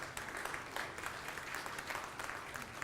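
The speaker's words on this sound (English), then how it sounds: "So just give a quick round of applause." Audience clapping at an aldermanic candidate forum in Chicago, a steady spatter of applause from a modest crowd, fairly faint and without talk.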